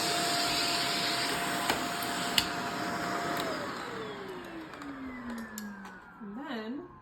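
An upright vacuum cleaner runs with a steady loud whine and broad airflow roar, then its motor pitch drops steadily as it winds down, with brief clicks and faint talk near the end.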